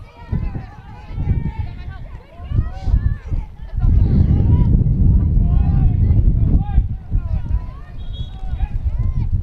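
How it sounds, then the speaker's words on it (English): Heavy rain and strong wind roar steadily at an open outdoor girls' varsity soccer game, with gusts buffeting the microphone and a voice talking over the noise. "it's absolutely pouring out and windy"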